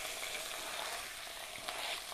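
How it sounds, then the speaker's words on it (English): Tomatoes sizzle in hot ghee in a pan for a lamb karahi curry, giving a steady, bright, hissing crackle that carries on without a break, close by and with no voice over it. "you should get a really lovely, satisfying sizzle when those tomatoes hit that hot ghee"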